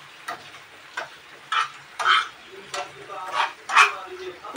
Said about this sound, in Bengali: আমি এটাকে একটু এভাবে নাড়িয়ে চাড়িয়ে নিচ্ছি।